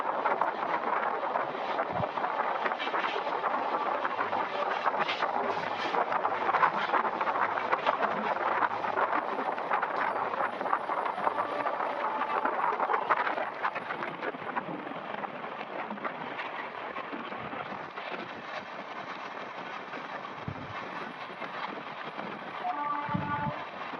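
A passenger train runs between Lingampalli and Vikarabad at up to 110 km/h, giving a steady, loud broadband rumble of wheels and track that continues without a break throughout.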